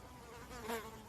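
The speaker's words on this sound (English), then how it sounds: "There's a giant bee." A large bee buzzes briefly and faintly nearby, a short steady drone that swells for a moment before fading.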